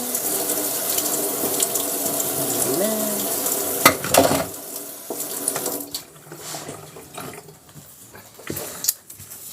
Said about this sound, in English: Give me a second to wash my hands.